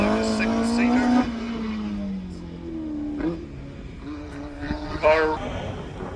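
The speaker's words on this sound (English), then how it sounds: "the substitute car, which is the Westfield with the Vauxhall Lotus engine in it" A Westfield race car fitted with a Vauxhall Lotus engine runs a hillclimb course, its engine note loud and close, rising and falling through gear changes as it passes.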